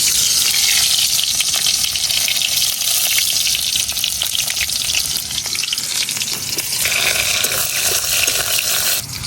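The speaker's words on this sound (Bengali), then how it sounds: "এইটা আমার পেঁয়াজটা ভাজা ভাজা হইতে হইতে" Chopped onion frying in white oil for a banana flower (mochar ghonto) dish, a loud, steady sizzle that runs unbroken with occasional stirring scrapes and no talking.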